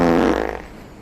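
A loud, close fart sound effect, a single raspy buzzing burst that trails off after about half a second, with no talk over it.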